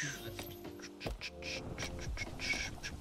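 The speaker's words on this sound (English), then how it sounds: "Oh, go away, birds." Ducks or similar birds quack repeatedly in a Minecraft game, a string of short, fairly faint calls scattered across a busy background of other game sounds.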